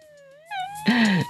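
A wailing ambulance siren in a stickman video game rises and falls in short tonal sweeps, growing louder midway and ending abruptly.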